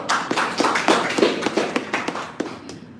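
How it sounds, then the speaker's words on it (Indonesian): A few people clap in a loose, uneven rhythm close by, a short burst of separate hand claps that tapers off within seconds. "Tepuk tangan Pak."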